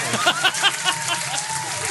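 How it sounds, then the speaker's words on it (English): A soundboard audience-clapping effect plays as a short patter of applause under people talking over it. "It's got audience clapping"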